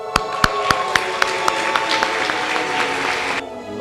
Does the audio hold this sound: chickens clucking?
no